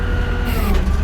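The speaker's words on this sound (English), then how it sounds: "That's got the hydraulic stabilizers" Hydraulic stabilizers on a 2014 Ram 5500 crew cab 4x4 wrecker run with a steady mechanical drone and pump whine, joined by a brief hiss partway through.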